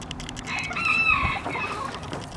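Young pullet hens clucking close by in a breeder's pen, a steady run of soft chatter with one clearer rising call in the middle, heard alone.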